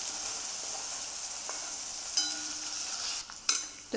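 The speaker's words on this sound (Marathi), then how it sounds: "तेल तापलं आहे, त्यामध्ये आपल्याला कांदा परतून घ्यायचा आहे।" Onions sautéing in hot oil in a wok, a steady bright sizzle with a few spatula scrapes and clinks near the end, close and continuous without talk.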